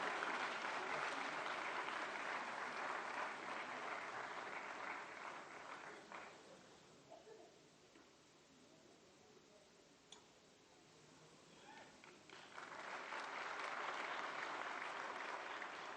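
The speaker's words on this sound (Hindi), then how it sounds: "जोरदार तालियां," Loud applause from a crowd at a book release event with Prime Minister Modi fills the room, easing off midway to a quieter patter before swelling back up to full clapping.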